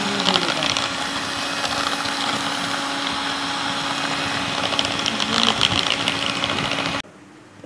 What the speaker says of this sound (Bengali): খুব ভালোভাবে বিট করতে হবে যাতে চিনি গলে যায়।